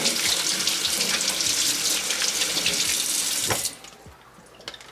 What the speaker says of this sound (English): I just rinsed them both out